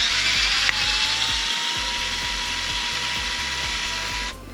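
A Pkey electric screwdriver on its maximum torque setting backs out a fastener with a steady, close motor whine and a rapid repeating ratchet-like clicking, running continuously until it stops.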